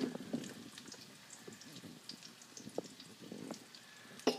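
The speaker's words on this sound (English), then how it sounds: "Now we're going to place our fillets in there." Sunfish fillets frying in a pan of hot oil give off a faint, soft crackle and sizzle with scattered small pops.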